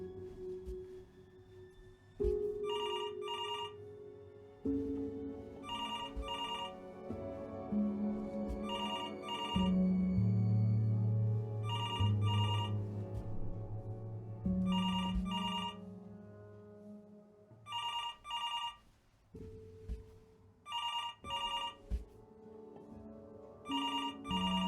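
A telephone rings in the video game Before Your Eyes, an electronic double-burst ring repeating about every three seconds over sustained, swelling music.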